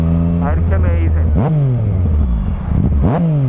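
A Yamaha MT-09 Tracer motorcycle engine idles close by and revs sharply twice, pitch climbing and dropping with each throttle blip, loud and steady under a rumbling idle on the street.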